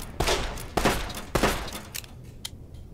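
Gunshots in Fallout: New Vegas, three sharp close shots about half a second apart followed by fainter scattered pops trailing off.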